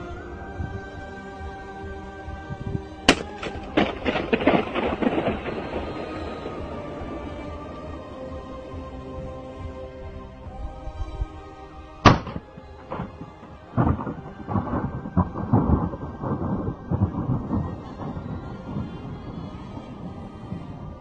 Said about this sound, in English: Here is a video of a guy blowing a balloon inside a nuclear power plant. When slowed down it sounds just like thunder.